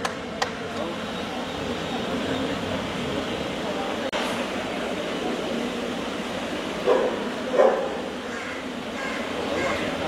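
Dogs bark and yip amid a busy outdoor dog show crowd in Sri Lanka, with a few short louder barks near the end standing out over steady background chatter.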